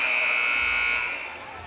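Buzzer ending the first quarter of a high school basketball game, a loud, steady electronic tone held for over a second that fades slightly toward the end.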